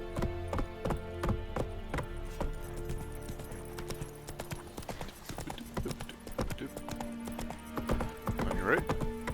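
Roach, a horse in The Witcher 3, gallops with rapid, rhythmic hoofbeats, and a short neigh comes near the end, all loud and close.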